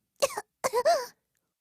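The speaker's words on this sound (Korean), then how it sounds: "앵무새가 기침을 하면서 말했습니다" A voice coughs twice in quick succession, close and clear, with a rough throaty quality and silence around it.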